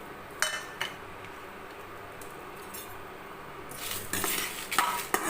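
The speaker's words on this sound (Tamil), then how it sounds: "இப்போ வந்து இந்த மசாலாவை வறுத்து எடுத்துக்கலாம்" Masala spices dry-roasting on a tava, with scattered scrapes and light metallic clinks of a spatula against the pan, quiet at first and growing busier and louder toward the end; no talking.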